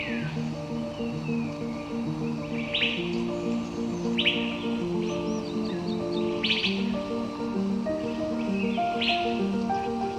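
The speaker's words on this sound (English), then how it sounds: "the Cucak Keling still catches attention with its high-pitched calls and ability to mimic the sounds of other birds" Cucak Keling, a songbird of Sumatra, Java, Kalimantan, Bali and Sulawesi, gives four clear high-pitched call bursts at a steady pace over a constant hum of other chirping birds and a droning tonal background.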